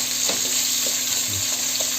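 Steady sizzling of onions sautéing in a hot pan for chicken biryani, a constant crackling hiss with occasional soft stirring scrapes, close up.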